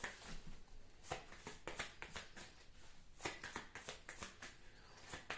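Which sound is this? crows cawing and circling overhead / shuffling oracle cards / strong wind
shuffling oracle cards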